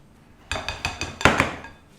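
Walnuts being mixed into chocolate pear brownie batter in a bowl: a quick series of about six clinking, tapping knocks of a utensil against the bowl, close and fairly loud, with no talking.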